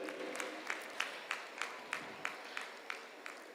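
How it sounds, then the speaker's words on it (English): Audience at a school United Nations Day celebration applauds the people on stage: a quiet, distant wash of clapping with regular sharper claps about every third of a second, likely one nearby clapper, continuing steadily throughout. "all the people on the stage will have to give them a big round of applause"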